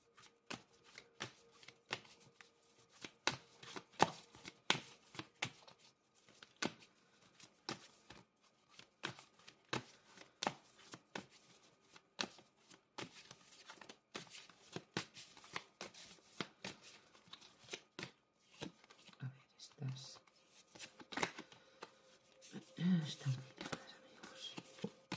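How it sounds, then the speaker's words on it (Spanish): A deck of oracle cards is shuffled over and over in rapid papery riffles and taps, with soft thuds and rustles as the cards are handled for a reading. "voy a barajar este oráculo a ver lo que nos pueden decir. Voy a barajar muy bien"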